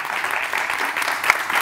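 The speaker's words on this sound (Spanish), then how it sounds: "Un aplauso para Chema Fernández." A studio audience claps for guest Chema Fernández, a brief even burst of applause heard close and steady, with no speech over it.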